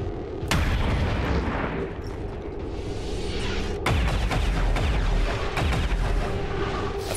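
Gunfire and heavy blasts in the video game XCOM 2, a loud, dense barrage of booming shots with sharp onsets, continuing with almost no pauses.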